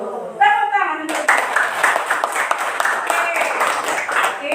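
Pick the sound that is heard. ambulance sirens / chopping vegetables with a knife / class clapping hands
class clapping hands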